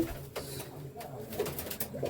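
At a teddy pigeon sale, a couple of short pigeon coos sound close by under a busy, noisy backdrop.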